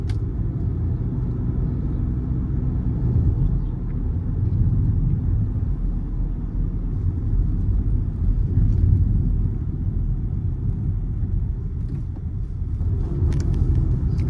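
Low engine rumble from a Honda City RS with a 1.5 litre naturally aspirated petrol engine and CVT gearbox accelerating, a steady droning hum heard from inside the cabin with road noise and no talk.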